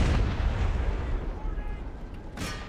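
Cannons in a Total War video game battle fire canister shot, heavy booming blasts with rumbling low-end decay, a sharp burst near the end, set in a busy battlefield mix.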